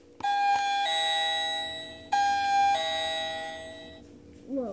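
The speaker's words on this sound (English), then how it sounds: "I'll ring the doorbell." A doorbell chimes loudly indoors, two ding-dong rings in succession with ringing tones that sustain and overlap before fading at the end.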